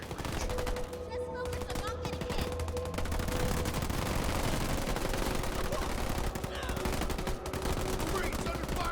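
Marines firing guns in the strategy video game Halo Wars 2, sustained rattling bursts of automatic fire with game sound effects, game voices and talk mixed in.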